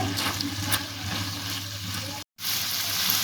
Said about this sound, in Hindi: चिकन को मीडियम फ्लेम पर भून देंगे 2 से 3 मिनट के लिए